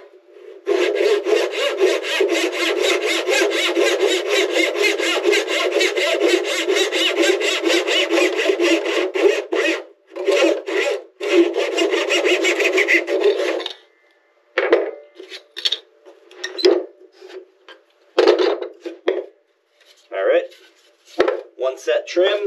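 A hand saw cuts wood with light pressure, first in a long run of steady, rapid rasping strokes, then in shorter broken bursts separated by pauses. The sawing is close and loud.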